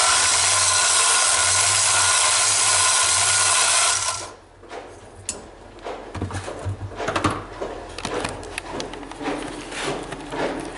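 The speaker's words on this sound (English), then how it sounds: "If the grinder will shut off, that would be nice." A valve seat grinder whines loudly and steadily for about four seconds, then shuts off, leaving quieter scraping and handling noises of the cylinder head work.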